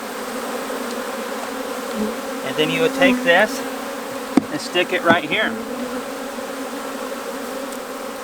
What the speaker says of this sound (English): And you just pour those bees out. And you just shake the heck out of them.